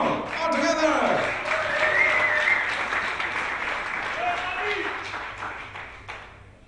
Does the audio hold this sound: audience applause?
yes